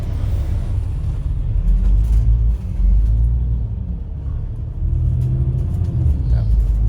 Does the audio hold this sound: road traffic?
yes